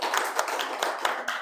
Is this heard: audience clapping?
yes